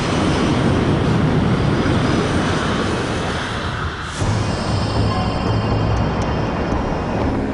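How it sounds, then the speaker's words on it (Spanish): Airplanes fly overhead in the sky, a loud, steady broadband engine roar that holds constant throughout, with a brief dip and swell partway through. "Hay más aviones en el cielo volando más alto y rápido que nunca"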